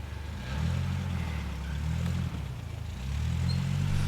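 An off-road vehicle driving out along a trail at White Tail Reservoir, its engine a steady mid-pitched drone that swells and eases as it moves, fairly close with no talking.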